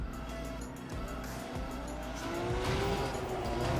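A car drifts in The Crew 2 racing game with a steady engine drone and a rising, whining tire squeal that builds louder over a few seconds, with no talk.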